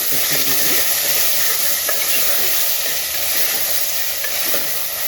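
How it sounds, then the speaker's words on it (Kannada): Black-eyed beans sauté in a pan with a constant loud, bright sizzle and a few soft stirring scrapes throughout. "ಚೆನ್ನಾಗಿ ಬಾಡಿಸ್ಕೊತಿದ್ದೀನಿ"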